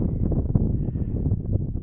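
Steady low buffeting of wind across a microphone on the Lakeland fells, a constant rumbling roar with no clear voices breaking through.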